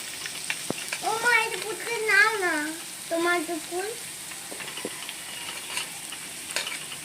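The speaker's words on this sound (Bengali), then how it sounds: "বাদামগুলো ছেড়ে দিলাম, ছেড়ে দিয়ে বাদামটা এবার নাড়াচাড়া করব, আলু আর বাদাম।" Potatoes and peanuts frying and being stirred in a pan, a steady low sizzle under faint intermittent scraping, while a voice talks over it for a few seconds.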